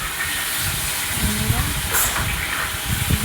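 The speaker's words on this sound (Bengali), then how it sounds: "ইলিশ মাছ ভাজছে।" Hilsa fish fries in a pan with a continuous loud hissing sizzle and scattered crackles, close by, with some background noise.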